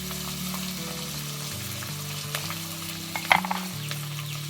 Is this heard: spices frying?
yes